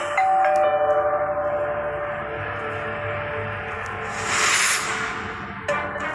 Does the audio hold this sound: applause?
no